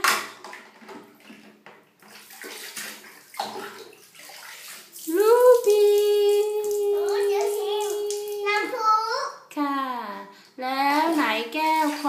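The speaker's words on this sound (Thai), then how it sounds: "อันนี้น้ำพุ่งมาข้างหน้าเปล่า" Water pours and splashes during a child's bath, with a voice and an adult speaking over a steady running-water wash; higher-pitched child vocalizations dominate the later part.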